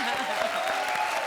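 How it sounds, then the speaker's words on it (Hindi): A comedy show studio audience applauds, with a brief, continuous wash of clapping at moderate volume. "जोरदार तालियां इनके लिए"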